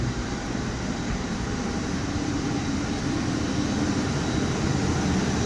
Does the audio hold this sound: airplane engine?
yes